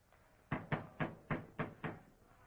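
Six firm, evenly spaced knocks on a door in a 1935 Paris setting, close and distinct, each a sharp rap separated by brief silence.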